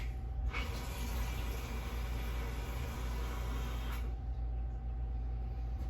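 Tap water runs from a sink faucet into a snake's water dish, a steady rushing hiss with a slight change near the end, close and continuous with no talking.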